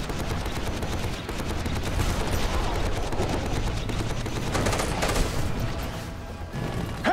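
Sustained machine-gun fire rattles through a firefight in the shooter game Army of Two: The Devil's Cartel, with dense rapid bursts, heavy booms and impacts that carry on loud and close for several seconds.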